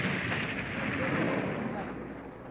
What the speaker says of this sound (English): explosions are sometimes triggered by primitive mechanisms.